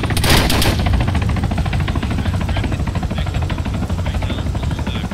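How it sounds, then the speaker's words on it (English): Heavy rapid gunfire in ARMA 3, a dense continuous rattle of shots that stays loud and sustained across the whole stretch, with no talking. "We're taking heavy fire."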